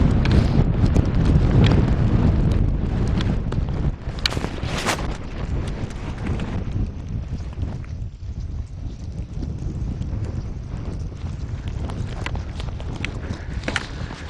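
Strong wind buffets the microphone on a snowy mountain during a hill race, a steady roaring rush that stays loud throughout, with brief thumps and scuffing steps mixed in.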